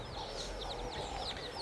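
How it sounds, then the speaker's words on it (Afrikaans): Soft clucking and high peeping from a hen with her chicks at an Easter Sunday church service, faint and steady against a low background hum, with no talk. "dis regtig 'n hen met kuikens"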